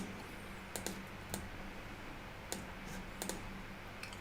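Keys on a computer keyboard are tapped to steer a robot, a handful of sparse, sharp clicks spread irregularly over a faint steady hum.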